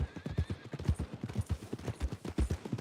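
Horse hooves clip-clop in a steady, rhythmic series of soft thuds as a rider in Red Dead Redemption 2 approaches the stables, moderately close and fairly quiet, with a faint thin whinny-like tone early on.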